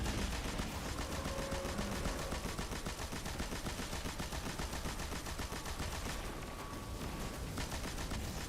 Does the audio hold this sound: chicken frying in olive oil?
no